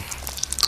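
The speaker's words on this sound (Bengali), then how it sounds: "শক্ত হাড় চিবোচ্ছে।" Hard bone chewed between teeth, a short burst of a few crisp, crunching bites and cracks that grow louder toward the end, heard close with nothing else around.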